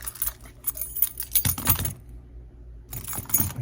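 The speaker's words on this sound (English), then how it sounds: "my keys, carry change" Keys and loose coins jangle in short bursts of bright metallic clinking, with a quiet pause in the middle before the jingling resumes, close and fairly loud.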